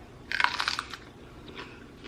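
A crisp bite into a raw sweet pepper topped with cottage cheese and mustard gives a short, sharp crunch followed by a few close, fainter chewing crackles, with no talk over it.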